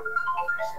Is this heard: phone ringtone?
yes